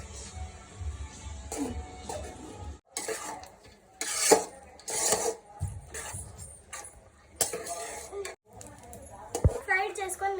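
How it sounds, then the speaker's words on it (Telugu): Egg chicken fried rice, street style, being stirred in a pan: scraping and clinking of a spatula against metal in uneven bursts with soft sizzling between, close up, and a voice talking over it. "ఇప్పుడు మనం దీన్ని బాగా మిక్స్ చేసుకుందాం."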